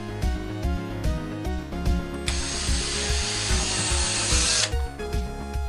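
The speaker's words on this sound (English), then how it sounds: "Probably shouldn't drill so close to a plug socket" Power drill boring into a wall close to a plug socket in a home: a motor hum and rattling first, then a loud harsh grinding bite into the wall for a couple of seconds before it eases off.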